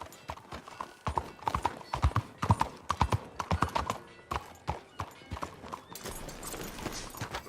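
Horse hooves clip-clop in Red Dead Redemption 2, a fast irregular run of sharp close hoofbeats that eases off near the end.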